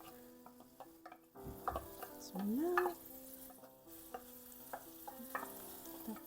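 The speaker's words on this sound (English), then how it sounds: "You can hear the nice sizzling sound." Tuna cooking in a frying pan for a fusilli pasta sauce, a steady soft sizzle with stirring and light scraping clinks, one brief rising squeak, and a few words spoken over it.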